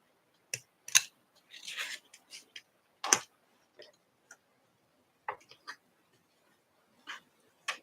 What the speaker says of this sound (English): And I'm going to cut off the extra over there.